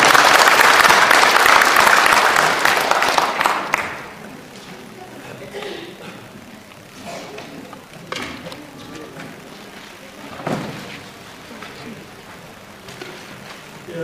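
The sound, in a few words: audience applause welcoming a lecturer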